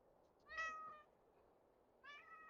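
A cat meows twice, about a second and a half apart. Both meows are short, tonal and fairly faint, set against quiet background noise.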